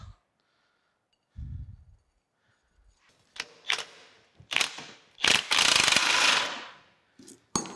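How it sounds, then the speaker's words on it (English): A bolt is worked free from an old sugar cane mill during a restoration teardown. Scattered metallic clicks and ratcheting lead into a longer grinding rasp, close and loud, with pauses between strokes. "That bolt comes out."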